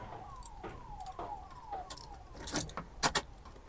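Keys for a 2024 Tata Intra V70 pickup, including the ignition key and the DEF tank lock key, jangle and clink in a few quick metallic bursts, close and fairly quiet, without any talking.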